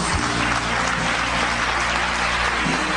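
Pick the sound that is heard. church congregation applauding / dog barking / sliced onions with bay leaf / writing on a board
church congregation applauding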